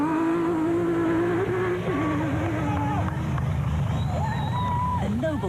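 Off-road race cars, including a Nissan hardbody, pull away from the start of the Baberspan 500 in an 85-car field, with loud, steady engine drone and rising revs throughout, a voice talking over the top.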